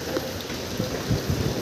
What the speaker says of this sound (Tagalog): Ito, umuulan.